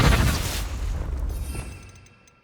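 A booming fire-spell blast in the Hogwarts Legacy video game, one heavy low explosion bursting loud at once and then rumbling off into a fading tail.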